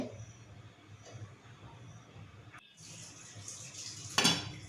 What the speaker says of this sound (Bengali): এখন ঢাকনা লাগিয়ে রান্না করব